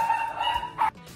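A puppy barks close by with a couple of short, high, yappy barks over a steady background hum in a home.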